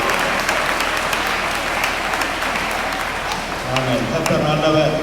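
Church congregation clapping hands together in a sustained burst of applause, loud and dense, with a voice speaking over the clapping near the end.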